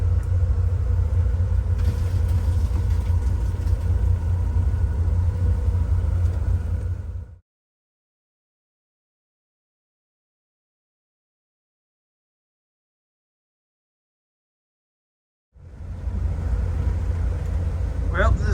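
An old Marinette boat engine chugs along on the Ohio River with a steady, close, low rumble. The sound cuts out into about eight seconds of silence partway through, then the rumble returns.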